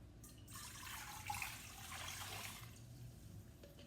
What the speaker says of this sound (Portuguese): nós vamos colocar a água, 300 ml de água.